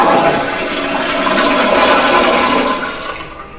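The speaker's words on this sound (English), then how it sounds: "I think the Skibidi Toilet just got flushed by the cameraman." A toilet flushing in a Skibidi Toilet horror film, a loud continuous rush of swirling water lasting several seconds and tapering slightly at the end, heard alone without talk.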